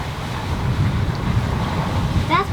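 Wind rushes and waves wash around a sailboat under way, a steady, close roar of breeze across the microphone over lapping water, with a short faint whistle near the end.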